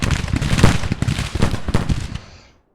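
Rapid crackling volleys of artillery fire in the video game Grand Tactician, dense overlapping bursts rolling on for a couple of seconds before cutting off, loud and close with no voices.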